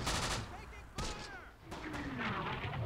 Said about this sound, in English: Because this naval gunfire support sucks. It's landing right on top of my mortars.